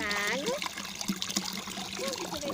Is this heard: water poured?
yes